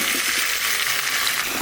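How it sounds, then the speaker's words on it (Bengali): Potatoes frying in a pan for dum aloo make a close, steady hiss and crackle of hot oil, loud and constant over the whole moment. "তা আমি আলুগুলো একটু ভেজে দিই।"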